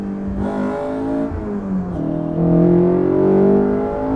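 Ariel Atom sports car driving on a race track during a track day, its engine droning steadily, then swelling louder and higher as it accelerates about halfway through, close and continuous with no talk.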